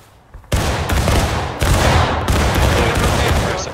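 Musket volley fired by a Civil War reenactor company on command, a loud ragged burst of overlapping shots followed by two more rolling volleys, close and sustained with echo between them.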